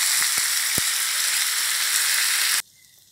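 Shark is stir-fried with basil leaves and young galangal, giving a loud, close, continuous sizzle with a few faint spatula taps before the sound cuts off abruptly.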